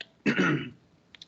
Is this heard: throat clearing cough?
yes